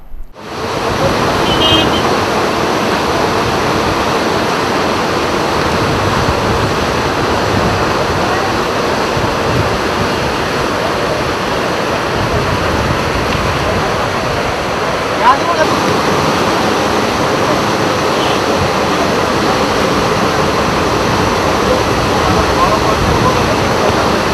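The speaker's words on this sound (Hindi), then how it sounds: "लगातार पानी बढ़ने की वजह से यशवंत सागर के डैम का एक गेट भी खोलना पड़ा।" Water from an opened gate of the Yashwant Sagar dam rushing out with a loud, constant roaring wash, accompanied by wind buffeting against the microphone and faint voices in the background.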